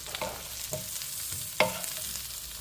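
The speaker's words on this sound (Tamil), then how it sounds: "நல்லா ஒரு தடவை மிக்ஸ் பண்ணி கொடுங்க" Spice powders being stirred into taro root (arbi) pieces roasting in a pan, with a few distinct scraping stirs and one sharp clink of the utensil over a soft, steady background hiss.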